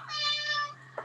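A house cat gives a single drawn-out meow in a quiet home office, loud and close, over a low steady electrical hum.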